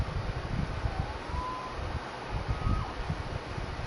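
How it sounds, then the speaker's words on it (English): In the Spider-Man PS4 video game, a police siren wails faintly in the distance, its thin rising and falling tone sitting under heavy wind and city rumble without any talk. "Saved by the siren."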